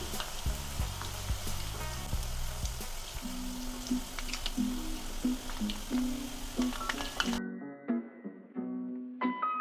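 Murukku deep-frying in hot oil makes a soft, continuous crackling sizzle under prominent background music, which cuts out briefly near the end while the music carries on.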